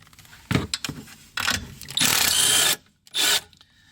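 A ratchet wrench works a 10mm nut off the 12V battery of a Toyota Highlander Hybrid, giving several short mechanical clicking bursts and then two longer, louder ratcheting runs close by, with no talk.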